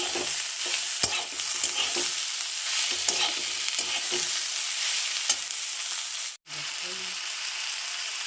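Semolina upma being stirred in a pan with turmeric and sugar, a continuous close sizzle with regular spoon scrapes and taps, briefly cut off near the end before resuming.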